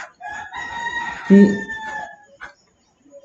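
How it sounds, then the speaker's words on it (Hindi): Roosters crow loudly nearby in a long drawn-out call with clucking around it, while someone talks briefly at the end. "भाई ये मुर्गे मेरे नहीं हैं, ठीक है, ये बगल में पता नहीं किसके हैं"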